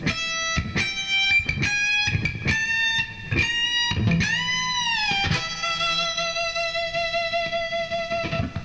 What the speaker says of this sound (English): our final type of bend is a climbing chromatic bend